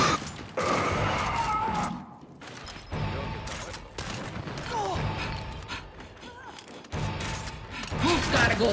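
Bursts of Gears 5 gunfire and impacts crash in and out between brief pauses, with voices and other game effects mixed in.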